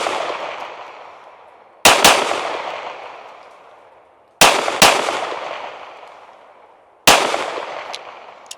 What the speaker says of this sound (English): Let's double tap.